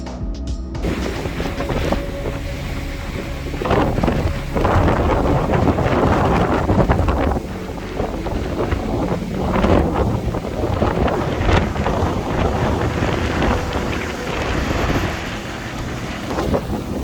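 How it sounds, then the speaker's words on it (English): A strong northeasterly wind buffets the microphone on Margate Pier, a continuous roaring rumble with gusts rising and falling, loud and without talk. "I'm gonna go and challenge this northeasterly wind now"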